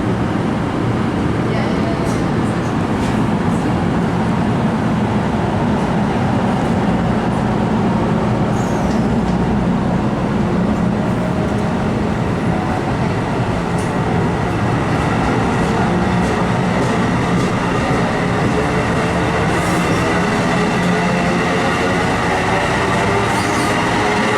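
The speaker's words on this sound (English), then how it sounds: "there's another classic Vinny Coleman Jersey train" A New Jersey Transit train passing on the North Jersey Coast Line, a loud, steady roar of rolling wheels and rail noise close by, with a squeal now and then and no pause.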